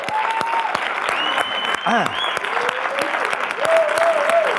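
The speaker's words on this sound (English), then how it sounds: "can we give this man a round of applause?" Audience applause at a film premiere Q&A in London, a dense, sustained burst of clapping from a crowd filling the room, with cheers and whoops rising over it.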